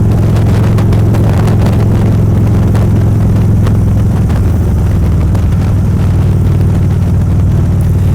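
Harley-Davidson motorcycle with a Dynojet Power Vision tune riding in first gear, a loud continuous low engine rumble and exhaust drone held steady throughout.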